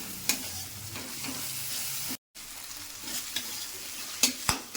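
Tomatoes stirred and cooking in a pan for palak dal: continuous frying sizzle with intermittent scrapes and knocks of a spoon, briefly cut off midway before resuming.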